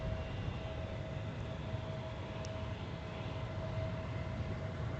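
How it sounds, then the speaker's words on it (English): A jet airliner in blue livery departs Minneapolis–Saint Paul airport, a steady broadband engine roar with a faint whine, distant and constant with no voices. "Got another one of those Smurf jets on their way out."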